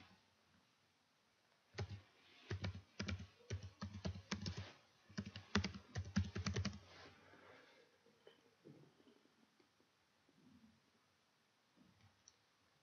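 Someone types text on a computer keyboard while editing a PowerPoint slide, producing a quick cluster of close, crisp key clicks for about five seconds before the room falls quiet.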